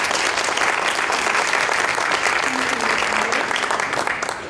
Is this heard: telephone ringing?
no